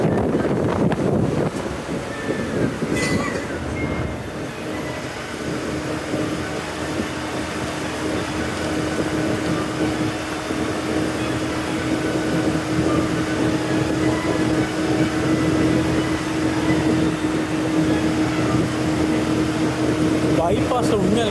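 An SETC long-distance bus speeds along a bypass near Palakkad, its engine and road noise forming a steady, loud rumble with wind rushing past throughout, and a voice talking briefly near the start.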